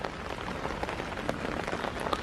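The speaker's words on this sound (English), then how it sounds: "We've just had a nice spot of rain at last." Rain falls on an allotment with cabbages and broccoli, a dense, even patter of drops across the whole stretch, steady and fairly soft, with no voices.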